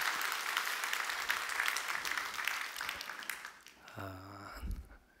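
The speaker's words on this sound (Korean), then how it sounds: "우리 청년들을 위해서 여러분 격려와 축하의 박수 한번 해주시면." A church congregation at a New Year fasting revival service applauds the young people, a dense sustained round of clapping that fades toward the end before a low voice speaks briefly.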